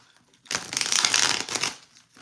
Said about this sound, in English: I'll just give it a couple more good shuffles